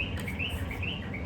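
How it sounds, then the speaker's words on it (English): Birds chirp outdoors in hot Puerto Escondido, repeated short tweets at a moderate distance over a steady background hiss. "the birds"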